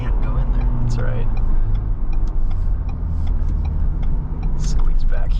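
A 7-speed manual Ford Bronco driving on back roads, its engine and road rumble steady and close throughout, with tyre and cabin noise; people talk over it.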